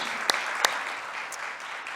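A live summit audience in Los Angeles applauds as a dense, steady wash of clapping. A couple of sharper individual claps stand out near the start, and the applause holds at an even level throughout without any speech.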